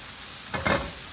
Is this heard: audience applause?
no